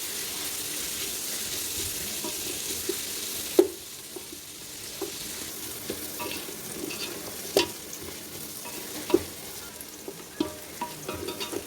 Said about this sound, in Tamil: வெங்காயம் கொஞ்சம் நல்லா கோல்டன் ப்ரௌனாக நல்லா வதக்கணும்.